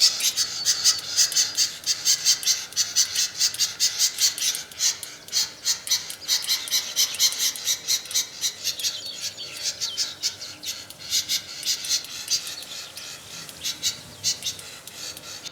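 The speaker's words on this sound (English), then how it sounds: "when a cuckoo comes along, reed warblers mob it, and they make a hell of a fuss" Reed warblers mobbing a cuckoo give a long run of rapid, harsh chattering alarm calls, agitated and continuous, with sharp clicking bill snaps mixed in.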